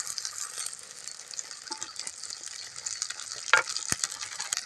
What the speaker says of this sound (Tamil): காயை ஒன்றுனா இந்த மாதிரி திருப்பி விட்டு நல்லா வேக விடுங்க.